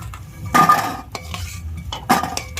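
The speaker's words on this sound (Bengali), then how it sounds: "বড়িগুলো ভাজা হয়ে গেছে, তুলে নিচ্ছি।" Metal utensils scrape and clink against a pan while fried lentil dumplings are lifted out, two sharp bursts of clattering about a second and a half apart over a quiet background, close by.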